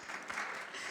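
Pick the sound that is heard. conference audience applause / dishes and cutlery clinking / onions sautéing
conference audience applause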